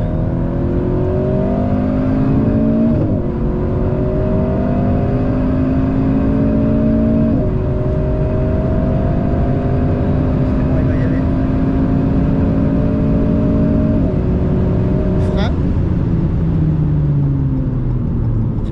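Loud car engine droning and rising in pitch as the car accelerates on a racing circuit during a driving lesson, with gear shifts breaking the sustained roar over nearly twenty seconds.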